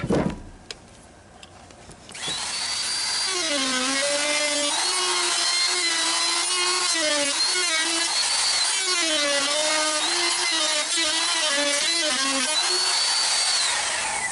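A power saw cuts a slot into a wooden beam for a winch rig used to lift riding mowers. Loud continuous whining cutting starts after a short pause and runs steadily, its pitch wavering as the blade bites, with no talk.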